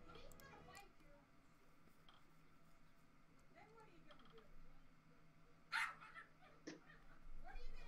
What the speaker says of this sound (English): Listen to that fucking dog.